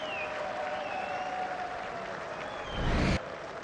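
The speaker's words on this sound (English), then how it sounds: "He's really exciting the crowd that have come in this morning." A cricket crowd at a Pakistan versus Australia match breaks into a short, loud burst of cheering and applause near the end, over a steady murmur of background ambience.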